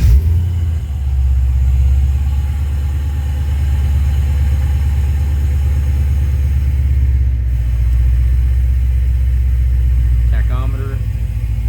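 A 1971 Chevrolet Nova engine settles into a loud, steady low idle throughout, with a brief higher sweep near the end.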